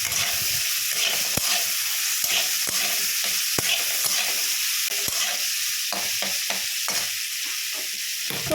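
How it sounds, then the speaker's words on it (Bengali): Papaya frying in a pan with salt and turmeric, a steady close sizzle with repeated scraping stirs of a spatula across the pan, no voices. "এবার এটাকে দিয়ে আমরা ভালো করে নাড়িয়ে নেব।"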